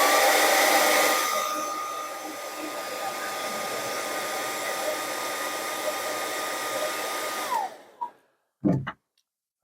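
Hair dryer blows loud and steady for several seconds, easing slightly after the first moment, then cuts off, followed by a few faint handling clicks and knocks.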